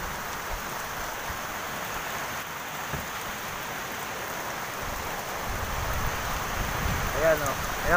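Steady rain from Typhoon Rolly in Laguna patters on surfaces nearby, a dense hiss that grows slightly heavier near the end, with wind rumbling underneath.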